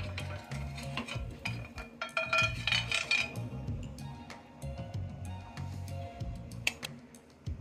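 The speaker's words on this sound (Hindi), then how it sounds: "घी को अच्छे से अपने पैन पर फैलाना है ताकि सारी जगह घी अपना फैल जाए।" Ghee being spread across a pan on a low gas flame with a spoon, giving soft repeated scraping and stirring strokes with light clinks of metal, steady and close, with no speech.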